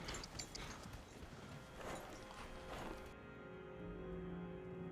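Horse hooves clip-clopping in a quick, irregular rhythm at a horse relay racing event, fairly close and moderately loud against steady outdoor background noise.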